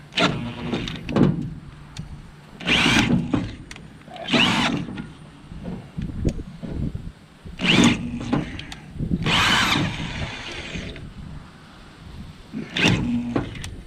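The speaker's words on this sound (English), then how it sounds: "it's a real pain to drill a hole anyway." A power drill runs in short repeated bursts, revving and stopping as it works through material, with handling noises between.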